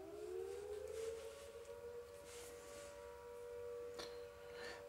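A volunteer fire brigade siren wails steadily in the distance, a faint, slowly rising and sustained tone that holds throughout, with no voices.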